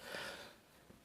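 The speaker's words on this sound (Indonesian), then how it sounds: "Sorry, batuk." A single muffled cough, a quick breathy burst near the start, then near silence.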